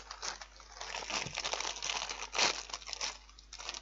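A crisp packet wrapper stuck to its outer bag is peeled off and crinkles in close, continuous bursts of papery rustling and crackling.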